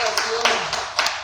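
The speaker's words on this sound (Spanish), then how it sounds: "Démosle al Señor un fuerte aplauso y alabanza." Church congregation clapping in praise, a short burst of sharp individual claps at an uneven rhythm, fairly close, with a voice talking underneath.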